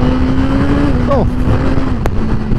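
A Suzuki GSX-R1000R engine hums steadily at low revs on a bumpy coastal road in Norfolk, with a light throttle blip rising and falling amid constant wind rush.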